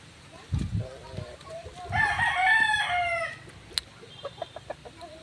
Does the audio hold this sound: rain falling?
no